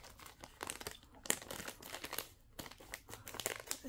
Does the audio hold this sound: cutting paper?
yes